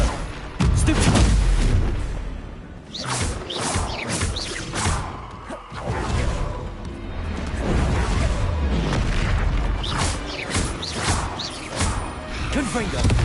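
Confringo fire spells explode in Hogwarts Legacy, a run of heavy booms and crashing blasts repeating through the stretch, with a player's voice shouting over the game action.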